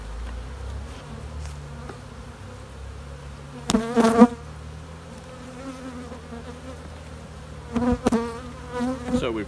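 Honey bees buzz around boosted hives during an inspection, a soft steady hum with two louder bursts as bees fly close past, once near the middle and again near the end.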